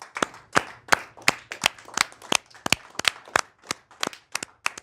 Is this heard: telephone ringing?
no